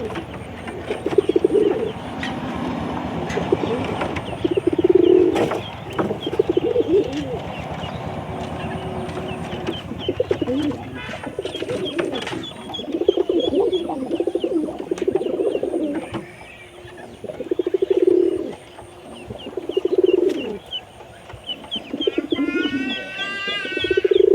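Pigeons coo in a series of soft, rounded, repeated calls at a village coop, fairly close, with background noise and occasional faint chirps.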